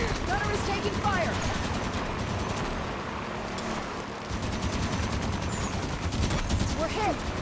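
Gunfire in the video game Halo 5: Guardians, with rapid bursts of automatic fire crackling continuously amid other battle noise, loud and steady, with a voice talking over it.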